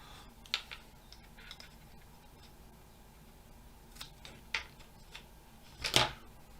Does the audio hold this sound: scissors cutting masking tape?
yes